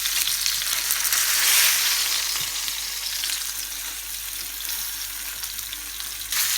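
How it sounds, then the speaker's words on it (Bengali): Chicken-stuffed eggplant fries in a pan with a loud, continuous hiss of oil, spitting and crackling up close and easing slightly before flaring again at the end. "প্রথমে আমি দুইটা করে ফ্রাই করে নিব"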